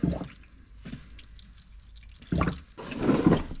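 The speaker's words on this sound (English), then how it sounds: "Now the pan is draining way better." Engine oil from a 2021 Ford Explorer Timberline draining into a drain pan, heard as close, trickling liquid with splashing bursts that swell louder toward the end.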